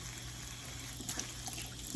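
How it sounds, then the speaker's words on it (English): A tap is turned on for hand washing, giving a faint, steady stream of water into a sink over low background hum, with no voices. "So we're gonna turn on our water."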